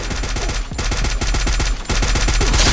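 Rapid automatic AK rifle fire in the mobile shooter game Free Fire, a loud, continuous stream of closely spaced shots with only a brief gap near the end, no talking.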